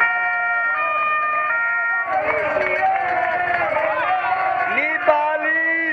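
A loud vehicle siren wails with shifting, melodic tones, played up close beside a mountain switchback at a Giro d'Italia stage while a roadside crowd murmurs and people talk nearby.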